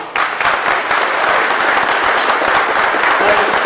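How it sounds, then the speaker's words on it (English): Loud, dense applause from an audience of vendors at a public meeting about a paper mill in Chillicothe, a steady wash of many hands clapping close by from start to finish. "Let's give them a round of applause, please"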